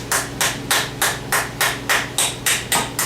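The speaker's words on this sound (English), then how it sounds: "hitting stuff with a hammer" A hammer taps a 2009 Mazda CV axle into place with about ten sharp, evenly spaced metallic strikes, close and loud, with no talking.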